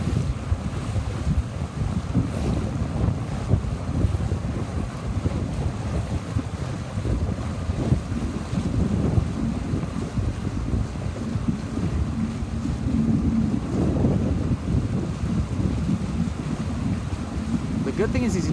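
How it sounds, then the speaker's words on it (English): Wind rushes over open water during 29er dinghy sailing, a steady broadband roar with microphone buffeting and water wash throughout and no pause. "This just looks like great wind through the middle here."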